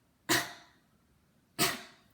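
Two separate coughs, about a second apart, each a sharp loud burst that quickly tails off, demonstrating a coughing technique performed while sitting and leaning forward, with no talk.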